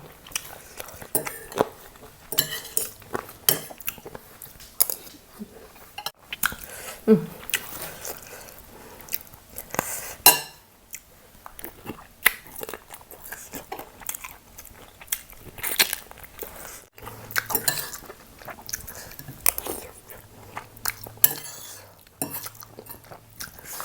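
Crunchy pork cartilage in a spicy Thai curry being chewed close to the mic in a mukbang, with repeated wet crunches and bites and occasional clinks of cutlery against dishes.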